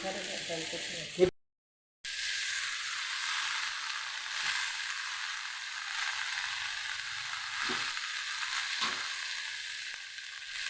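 Curry leaves crackle and sizzle in a pan of masala for a fish curry, a steady close frying hiss after a brief cut, with occasional stirring clinks.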